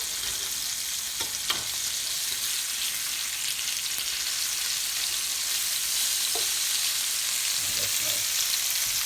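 Lamb chops searing in a hot pan give a steady, dense sizzle, with a few brief scrapes and stirs over the constant frying hiss.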